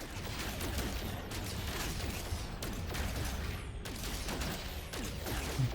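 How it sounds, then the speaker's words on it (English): Bolt caster energy weapon firing in No Man's Sky at a distant turret, a dense continuous run of rapid mechanical shots and crackling impacts with brief sharp bursts, loud and steady throughout with no talking. "Just taking this turret out from afar with my bolt caster"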